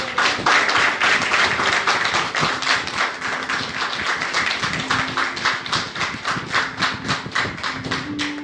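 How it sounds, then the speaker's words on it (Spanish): A church congregation claps together in steady, dense applause, loud and sustained from start to finish, with a faint tone from music or voices underneath. "Dele un aplauso al Señor"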